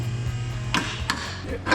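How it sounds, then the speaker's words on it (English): A few sharp metallic taps from a hammer working sheet metal on a vehicle build, spaced irregularly over a low steady hum. "Gonna give it some tapping with pressure."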